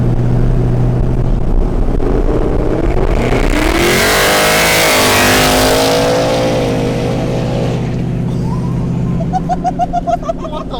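A car engine revs hard and roars away, rising in pitch as it accelerates, then fades into the distance.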